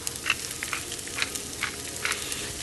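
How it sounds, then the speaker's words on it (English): Shallots and garlic sizzle steadily in a hot pan, with soft scraping clicks from stirring scattered through the crackle, close and moderately loud with no talking. "Drop in the shallots and garlic, and then stir them around, giving them a nice coating."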